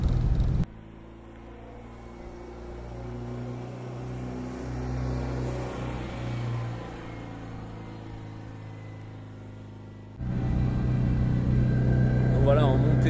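A 1986 Citroën 2CV6 Spécial engine while driving in fourth gear at light throttle, a steady low droning rumble with a quieter stretch in the middle, heard under talking from inside the car.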